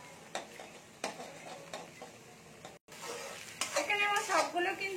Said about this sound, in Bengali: এবার এইটাকে একটু হালকা করে ঘেটে দিচ্ছি